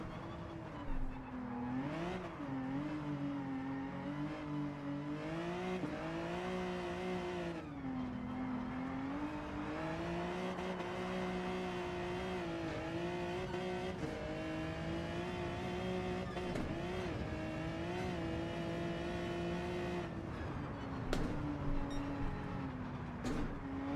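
A race car engine in a racing game revs hard and holds high through the gears, with a steady loud whine rising and dipping through shifts and occasional tire squeal, no talk.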